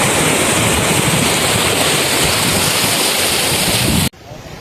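Floodwater surges through a residential colony in Mannar, a loud, steady broadband roar of rushing water with wind buffeting the microphone, cutting off abruptly near the end.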